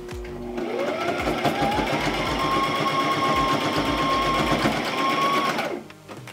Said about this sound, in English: And then we're gonna sew that together.